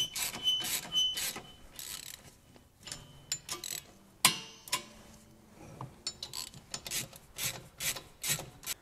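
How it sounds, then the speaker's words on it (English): New nylock nuts are tightened on a Triumph TR6 driveshaft with a hand tool, giving close, irregular ratcheting clicks and metallic scrapes in short bursts with brief pauses. "We're using new nuts, and these are nylock ones. going to evenly tighten them all round."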